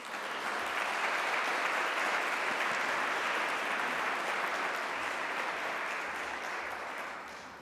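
A conference audience at a summit gives a big round of applause welcoming a detective superintendent; even, sustained clapping swells quickly and tapers slightly near the end, moderately distant.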